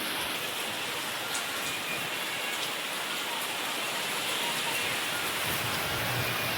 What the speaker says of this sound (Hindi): और देखिए बारिश हो रही है कितना ज़्यादा अभी।